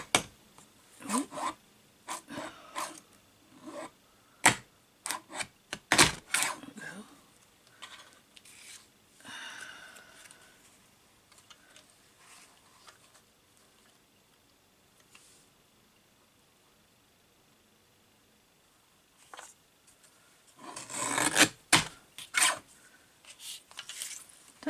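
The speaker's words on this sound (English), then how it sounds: "Don't you love the sound that paper guillotines make?" A small paper guillotine slices through cardstock in a series of short, dry rasping cuts, some closer together and some spread out, with a quiet gap and then a louder cluster of strokes near the end.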